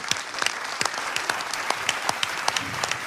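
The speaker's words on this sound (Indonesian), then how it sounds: "Kita beri tepuk tangan dulu untuk Pak Rohim." Studio audience applause on the stage of a TV show, honoring Pak Rohim, a man who clears nail traps from Jakarta roads; dense, steady clapping with crisp individual claps throughout, fairly close and sustained.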